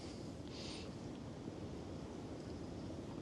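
Steady wind roars and buffets against the microphone at a riverside fishing spot, a dense continuous rush with no voices.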